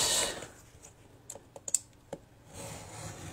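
A blade slices a folded sheet of paper on a cutting mat, heard as a quick series of sharp, close ticks and scrapes between stretches of quiet room noise.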